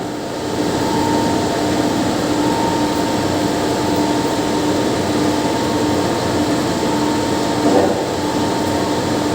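A carpet-cleaning drying machine runs with a loud, steady broadband roar and hum, unchanging across the whole stretch, with no speech.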